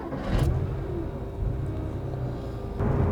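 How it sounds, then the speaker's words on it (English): A 1987 Porsche 911 (930) Carrera idles with a steady low, rumbling engine note and a faint hum, swelling slightly at the start and again near the end. "I miss that characterful noise of starting an engine."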